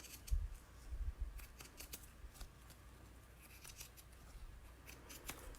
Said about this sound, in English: I'm going to cut those right off.